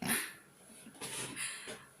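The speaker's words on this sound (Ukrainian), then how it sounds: "той, що озвучує хропака свого, наш собак Алікс." A pet dog snores while asleep by a door, quiet rhythmic breaths with a soft raspy rise and fall, close and faint, with no talking.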